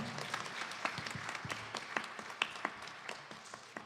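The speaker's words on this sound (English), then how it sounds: "Please clap for her." Fairly quiet applause at a Hindu Sunday service honoring a 75th birthday, scattered individual claps standing out from a soft steady patter, with a few murmuring voices.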